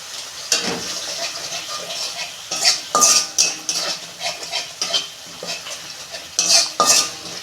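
A spice masala of chilli powder and Kashmiri chilli powder is stir-fried in a pan, with repeated loud metal scrapes and clatters of the spatula over a steady sizzle.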